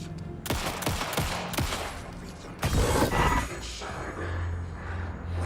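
Gunfire in the horror game Alan Wake 2: several loud close shots crack in quick succession, then a heavier burst with a rumbling roar, trailing into a low droning tone.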